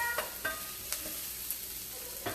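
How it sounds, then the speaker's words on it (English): Taco meat and vegetables sizzle in a frying pan while a utensil stirs and scrapes, giving several distinct scraping strokes over a steady close sizzle. "I'm just keeping it stirred because I don't want it to get burnt on any of the sides"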